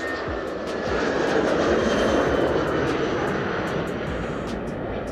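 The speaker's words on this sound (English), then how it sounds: "And in fact, is that a BA flight? Yes, it is." A British Airways passenger jet roars steadily at takeoff, a loud sustained broadband engine rumble heard from outside with a few faint clicks over it.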